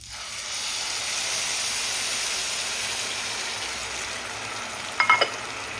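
Water poured onto rice frying in a pan for a paneer pulao sets off a broad, steady steaming hiss that holds throughout, with a few brief metallic clinks near the end.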